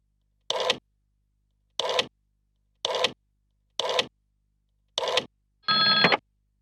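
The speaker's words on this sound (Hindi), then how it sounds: "अब अरुण को फोन करो।" A bell-like telephone ring in short, evenly spaced bursts, five brief rings followed by a longer, steadier one, with silence between and no voices.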